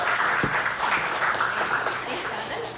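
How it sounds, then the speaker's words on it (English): Applause from a meetup audience fills the room, a steady wash of many hands clapping at moderate loudness with a faint voice or two mixed in. "Let's get a round of applause."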